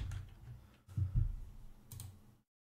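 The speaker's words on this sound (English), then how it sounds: "So let's just type in," Typing on a computer keyboard, fairly close, with a steady run of soft key taps and a couple of heavier thumps before it stops abruptly.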